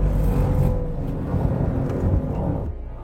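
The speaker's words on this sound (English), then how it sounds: "So let's shift down to second gear here and give it a try" A Mercedes-AMG GT 63 4MATIC+ in drift mode, pulled down to second gear, its engine roaring loud and close in one steady sustained burst of power for about three seconds.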